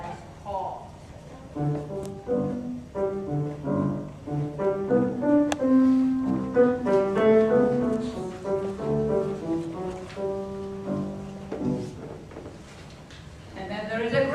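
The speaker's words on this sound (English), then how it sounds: "the cat is represented by clarinet and sounds like this." Solo clarinet plays the soft, lilting cat theme from Prokofiev's Peter and the Wolf, a clear melodic line with light orchestral accompaniment, close and moderately loud with no talk over it.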